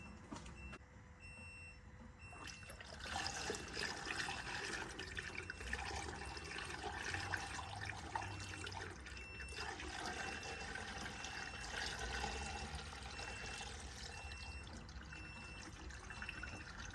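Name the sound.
coolant being poured back into a Ford Ranger engine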